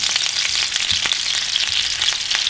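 Meatballs browning in a frying pan sizzle steadily and close up, with a dense, continuous crackle of hot oil and a few faint clinks from the pan.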